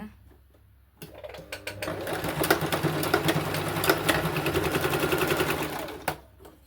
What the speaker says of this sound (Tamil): இப்போது இது ரெண்டுத்தையும் அப்படியே ஜாயின் பண்ணி ஸ்டிச் பண்ணிக்கலாம்